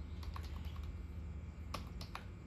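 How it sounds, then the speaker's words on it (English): Fingers tapping a computer keyboard to unlock an iPhone: a few scattered, fairly faint keystrokes over a low steady hum, including a quick cluster of clicks near the end. "So we need to type here"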